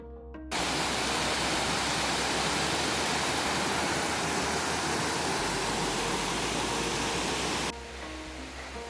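A waterfall beside a creek in the Smoky Mountains pours with a dense, steady rushing hiss, loud and continuous from near the start to near the end, with no voices over it.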